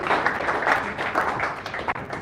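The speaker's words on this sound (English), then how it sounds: "I think we should give a round of applause to the guy at the back that just watched the demo" Audience applause at a product management talk on AI, a steady patter of many hands clapping close by, filling the short moment without talk.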